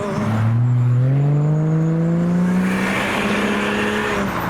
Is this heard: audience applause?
no